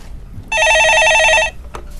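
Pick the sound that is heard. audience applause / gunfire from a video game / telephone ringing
telephone ringing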